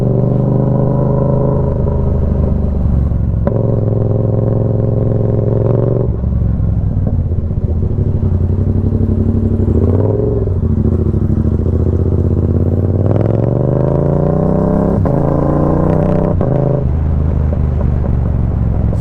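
A Yamaha MT-07 with a CP2 twin engine and a loud exhaust rumbles steadily up close, its pitch rising and falling through several revs and gear changes over nearly twenty seconds, with no talking.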